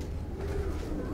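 A pigeon's steady low cooing drones close by on a rooftop, continuous and fairly loud through the short moment.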